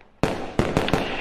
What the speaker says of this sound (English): Maybe those fireworks are a little bit too loud.